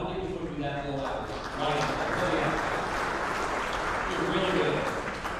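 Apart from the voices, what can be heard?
round of applause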